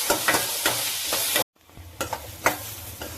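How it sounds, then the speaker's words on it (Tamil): Beetroot with cumin and dried red chillies sautés in a pan. A steady sizzle is broken by regular scraping stirs of a spatula, with a brief gap of silence partway through before the frying and stirring resume. "அப்புறம் ஜீரகம் 2 வரமிளகாய் அதையும் நல்லா வணக்கிடுங்க"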